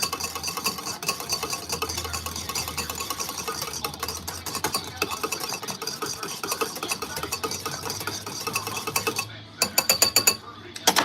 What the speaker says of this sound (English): Just going to whisk that a little bit, just to make sure it's well incorporated